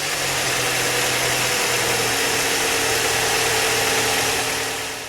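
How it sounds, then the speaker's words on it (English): A vehicle engine idling right after new spark plugs were installed, a steady, loud, even hum with a low droning pulse that continues throughout, with no talk. "we can then start the engine."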